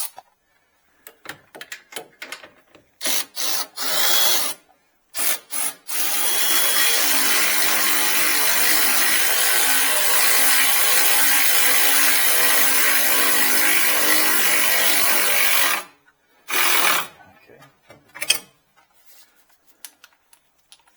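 Power tool runs in a sustained whine for about ten seconds while tightening bolts on a Chevy Cobalt lower control arm, framed by shorter bursts and clicks of tool handling before and after.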